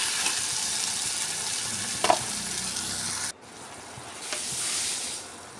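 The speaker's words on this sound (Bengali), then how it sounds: "পেঁয়াজটা দিয়ে আমি আবারও মসুর ডালটার সঙ্গে ভালো করে এটাকে ভালো করে ভেজে নেব" Onion frying together with red lentils in a pan gives a steady, close sizzle with a few spoon scrapes, the hiss dropping in level partway through as stirring continues, with no voices.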